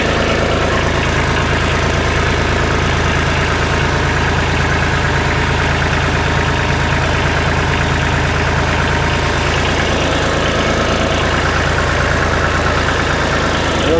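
Kubota B2650 compact tractor engine idling, a loud steady diesel rumble close by, continuous and even throughout.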